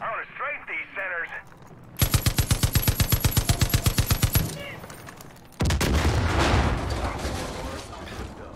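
Rapid automatic gunfire strafes enemies in the video game Far Cry 5, a loud run of evenly spaced shots after a short burst of speech, followed by a dense roar of continued firing and explosions.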